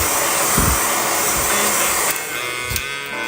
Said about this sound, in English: I use the hairdryer to dry up the process because I am impatient